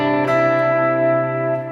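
Clean guitar lead line moving from the third to the ninth and back over a C bass note, a short sustained phrase with a soft picked attack, heard alone and fairly close.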